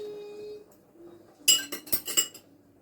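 A spoon clinks and scrapes against a bowl while mixing banana bread batter with mashed ripe bananas and vanilla, a quick burst of four or five sharp metallic knocks after a quiet stretch, close by with no talking.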